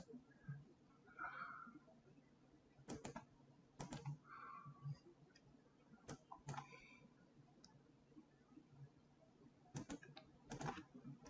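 Faint bursts of computer keyboard typing, with clusters of sharp key clacks separated by pauses, plus a few soft chirping sounds in the background.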